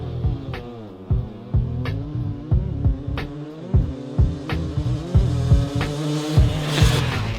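Yamaha YZ250 and YZ300 two-stroke dirt bikes drag race, loud raspy engines climbing through gears with rhythmic pulsing and repeated shift breaks, close and steady, no talk.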